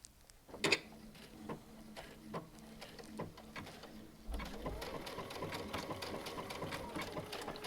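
Baby Lock serger stitching a leather applique under a Teflon foot: a few short motor bursts early on, then a steady, close mechanical whir with a rapid ticking rhythm from about the midpoint to the end.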